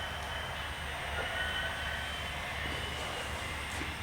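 Model train locomotives run on a home layout with a steady, continuous mechanical whir and rumble, even and unbroken, at close range and fairly faint, with no talking.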